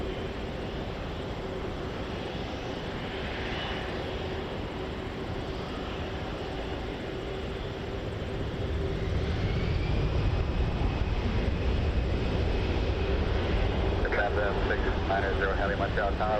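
An Air Canada airliner takes off at Montréal-Trudeau Airport, a steady distant jet engine roar that grows louder and fuller partway through, with a voice speaking over it.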